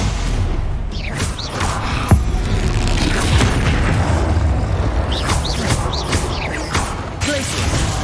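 A Stupefy spell lands in Hogwarts Legacy amid game combat, with a sharp boom of impact and dense layered crashes, whooshes and mechanical effects, loud throughout and without talk.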